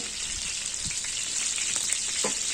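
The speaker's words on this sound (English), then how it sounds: "the olive oil is changing its color because it's taking all the flavor from the shrimps" Shrimps frying in olive oil in a pan for Valencian paella give a steady close sizzle, with faint crackles and a few soft pops rising through it.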